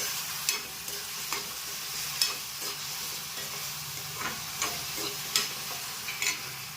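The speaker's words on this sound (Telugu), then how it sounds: "ఇవి బాగా మగ్గాలండి ఆయిల్లోను." Chicken and urad dal fritters sizzle in hot oil with a constant close fry hiss, punctuated by occasional light clicks and pops of spatters or utensil taps, no voices.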